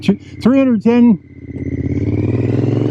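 A 2006 Triumph Scrambler 900 motorcycle engine idles steadily with a close, even, pulsing throb; a voice speaks briefly over it at the start.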